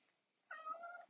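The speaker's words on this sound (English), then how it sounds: "Can you guys hear that cat?" A house cat meows insistently to be let out, a single drawn-out, close cry rising from near silence and holding for about half a second before trailing off, with no one talking over it.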